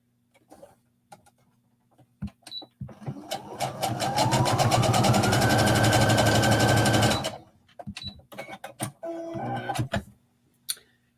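A sewing machine bastes pleats on a knit skirt piece, starting with a few clicks, then running in a loud, rapid stitching burst for about four seconds, then stopping, followed by a few short stitch runs and handling clicks.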